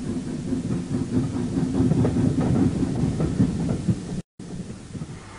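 A special train rolls through a complex of lines at Longbridge Works with a steady clickety-clack of wheels over rail joints and a continuous rumbling, mid-distance and loud, then breaks off abruptly near the end.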